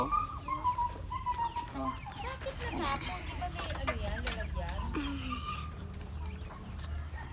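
Rhode Island Red chickens cluck in a farmyard, a busy scatter of short, overlapping calls, with a voice speaking briefly amid the flock.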